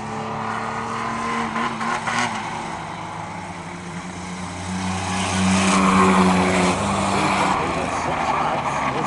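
Racing trucks lap the circuit during a qualifier race, a steady engine roar with rising and falling pitch as they pass at a distance, while an announcer talks over the noise.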